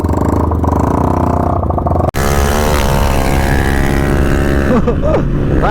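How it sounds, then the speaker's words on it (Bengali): A modified Yamaha R15 motorcycle without a silencer runs loud and close with a steady, raw engine drone, briefly cutting out before resuming, and then rising in a couple of quick revs near the end. "ভাই উইদাউট সাইলেন্সার আওয়াজ চেক করো"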